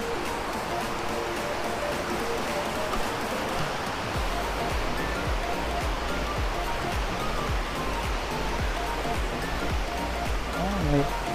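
Bega Falls waterfall in Prosperidad, Agusan del Sur, Philippines, a constant dense rush of falling water filling the scene evenly, with faint background voices and a deeper low rumble joining partway through.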